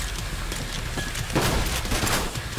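Dense gunfire fills the video game Trepang2, with overlapping loud shots and bursts crackling continuously throughout in a chaotic firefight.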